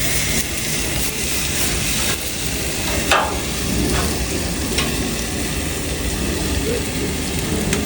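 Tri-tip steaks sizzle loudly and steadily in a hot pan, with a few sharp knocks and scrapes as a piece is turned, the frying continuing unbroken throughout.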